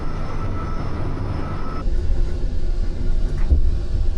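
A steady low rumble and hum inside a OUIGO conventional train running between Brussels and Paris, continuous throughout, with a brief thump a little past the midpoint.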